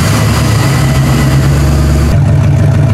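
A Camaro engine runs steadily after a fuel pump replacement, giving a close, loud, even idle rumble that shifts slightly near the end, with no talk.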